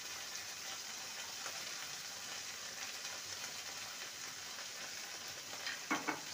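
Spices for a fish kofta curry sizzle and fry in a pan with turmeric and chili powder, a steady close crackle broken by a few louder scraping stirs near the end.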